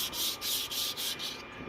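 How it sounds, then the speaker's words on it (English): Hand sanding of a wooden plaque: close, steady back-and-forth rubbing strokes, about six in a rhythmic run, with no talk. "why don't you hold your plaque down while you're sanding?"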